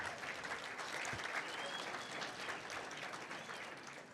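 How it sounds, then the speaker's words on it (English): A hall of fame ceremony audience at a sports event gives a full round of applause. The clapping is dense and sustained throughout, with some crowd noise underneath. "let's give them one more big round of applause."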